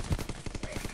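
Rapid bursts of gunfire from the video game Zombs Royale, a run of sharp, evenly spaced shots across the second, fairly loud and close with no talk over them.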